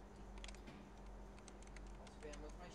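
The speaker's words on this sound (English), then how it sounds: "Use the keyboard to type." Soft, rapid keystrokes from typing a name on a keyboard in the office game Aperture Desk Job, a faint patter of clicks under a low steady hum.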